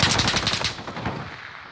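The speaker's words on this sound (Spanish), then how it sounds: "Sigo disparando." Rapid automatic gunfire from Call of Duty: Modern Warfare, a dense burst of close, loud shots that stops partway and leaves a fading echo.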